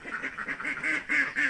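Ducks for sale at a market quack repeatedly in a quick, uneven series of nasal calls, close and clear, with no talking over them.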